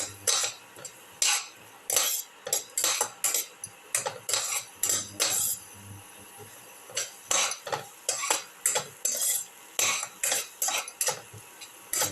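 Shallots and cucumber sautéing in a pot for a cumin rice soup, a spoon scraping and clinking against the metal in quick irregular bursts, close and fairly quiet with no talk.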